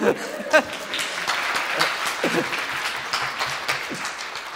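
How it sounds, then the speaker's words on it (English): Conference audience giving a brief round of clapping at a morning session, a scattered burst that thins out, with a few chuckles and voices through it. "Give that person a clap."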